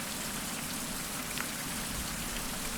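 Rain falling in the survival game Survival: Fountain of Youth, a dense, even hiss of raindrops spattering on surfaces, close and continuous, with no voices.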